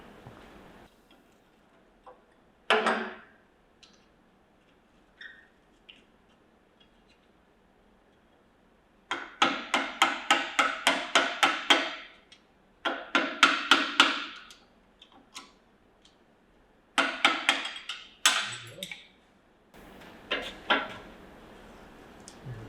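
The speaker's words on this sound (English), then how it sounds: "Let me get that cotter pin out." Metal tapping and clicking on a John Deere cane mill as a cotter pin is worked out, with rapid rhythmic clusters of sharp ticks and knocks between quiet pauses, close by.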